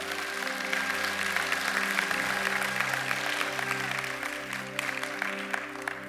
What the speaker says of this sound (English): Let's give them a round of applause as they go sit down.